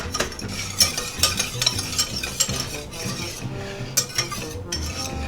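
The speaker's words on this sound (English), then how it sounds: "you're going to whisk in 2 tablespoons of flour and let that cook for a minute or 2" Flour being whisked into melted butter in a pan, with rapid metallic whisk clicks and scrapes in an uneven rhythm over a soft sizzle, close and without voices.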